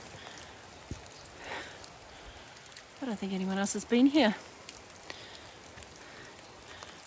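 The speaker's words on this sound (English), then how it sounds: "Don't know if you can see the rain there." Steady light rain falls in a storm during a solo camping trip outdoors, a soft continuous patter beneath a man's brief spoken remark.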